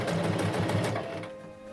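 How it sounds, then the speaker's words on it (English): A sewing machine runs steadily while stitching a kimono collar, a close, continuous mechanical whir that eases off slightly toward the end. "Sew the collar starting at the back and take your time to make sure it's going well."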